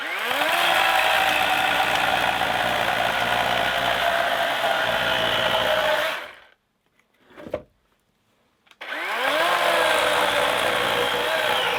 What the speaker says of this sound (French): Comme vous le voyez sur la tronçonneuse électrique, elle se bloquait en fait